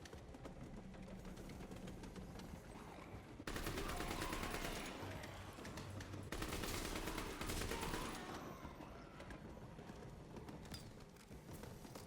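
Gunfire in a Call of Duty match on The Darkest Shore map, with dense bursts of rapid automatic shots that swell louder midway and then ease back into a continuous, slightly distant crackle.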